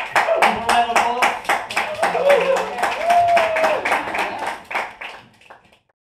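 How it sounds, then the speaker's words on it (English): A small group gives a round of applause, sharp distinct claps in a loose rhythm over about five seconds, close and fairly loud, with people talking and vocalizing over them before it fades out. "One round of applause."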